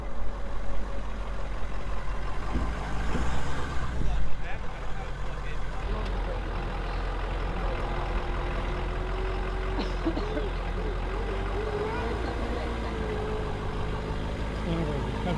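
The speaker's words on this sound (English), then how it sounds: "Just enough to spool up the diesel a little bit." A diesel truck engine revs up steadily during an off-road recovery, a continuous low rumble that rises briefly mid-way before settling, with voices talking over it.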